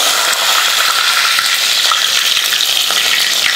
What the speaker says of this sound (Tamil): எண்ணெய் காஞ்சதுமே கொஞ்சம் வெந்தயம், கொஞ்சம் கடுகு, கொஞ்சம் ஜீரகம், வெந்தயம் கடுகு சீரகம் மூணு சேர்த்திருக்கேன்